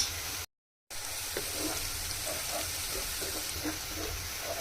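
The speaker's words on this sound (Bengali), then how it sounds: "তেল গরম হয়ে গেছে। এখন দিয়ে দিব পরিমাণ মতো পেঁয়াজ কুচি। পেঁয়াজগুলো হালকা করে ভেজে নিব।" Chopped onions fry lightly in hot oil, a steady even sizzle with faint crackles throughout, broken by a brief silent gap near the start.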